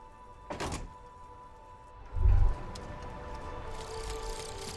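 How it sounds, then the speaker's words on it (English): In Disco Elysium, a pull-out toolbox slides back into its nest with a brief soft swish and then a single heavy, low thunk as it shuts, over a steady ambient hum. "The pull-out toolbox slides back into its nest."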